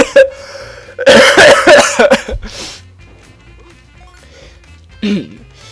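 A burst of harsh, loud coughing close up, trailing off into quieter sounds, with another short cough a few seconds later.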